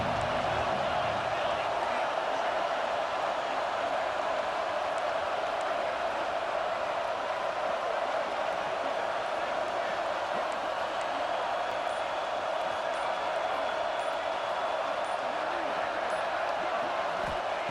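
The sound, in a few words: stadium crowd in video game College Football 26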